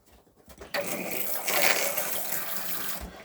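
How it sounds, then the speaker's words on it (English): A caravan shower in a 2016 Buccaneer Cruiser starts spraying after a couple of soft clicks, then runs as a continuous, fairly close hiss of water before easing off near the end. "And again with the shower."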